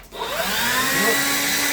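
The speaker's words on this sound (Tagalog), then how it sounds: "Yan, blower na siya." A hair blower runs steadily at a barber shop, a continuous close whooshing drone with a rising whine that holds at one level throughout, with no talking over it.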